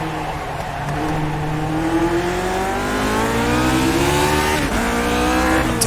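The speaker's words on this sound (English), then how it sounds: "every lap seems to be locking up the tires into the S's." A Lotus 49 race car in iRacing at Okayama screams through the gears, its engine pitch climbing steadily while the tires lock up under braking into the esses, loud and continuous with a brief squeal near the end.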